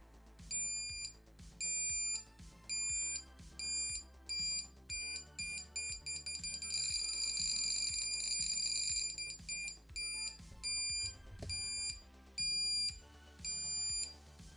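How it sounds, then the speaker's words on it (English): A passive buzzer on an ESP32 backup camera and obstacle detection system beeps in short repeated bursts of high electronic tone, the pitch and pattern shifting, with one longer continuous stretch in the middle. "with a passive buzzer, we can play around with the tone"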